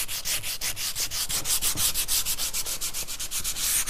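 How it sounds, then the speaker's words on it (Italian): Fast sandpaper strokes on wooden furniture being distressed for a shabby-chic decapé finish, a steady rapid rhythm of close, loud scratchy rubs throughout. "E poi continuiamo a carteggiare in questo modo qua, molto velocemente."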